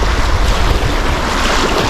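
Loud, steady rush of river waves washing around kayaks on the Akmena river heading toward the sea, with continuous churning water and wind buffeting close to the microphone, no voices.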